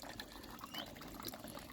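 Water runs steadily from taps in a homemade aquaponics system, a soft continuous trickle and splash, faint and close, with no voices.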